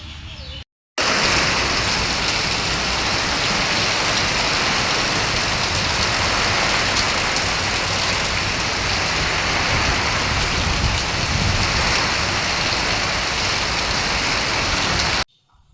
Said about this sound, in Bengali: বৃষ্টি তো হচ্ছে